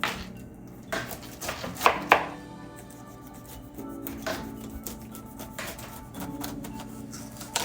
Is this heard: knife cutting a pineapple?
yes